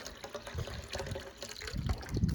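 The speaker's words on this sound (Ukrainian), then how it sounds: "Так, набираємо води" Water runs steadily into a Labrador's drinking bowl with a splashy, gurgling fill, fairly soft and close, no voices.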